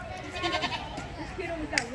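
A goat bleats amid a noisy crowd at a zoo, with people talking and laughing close by throughout.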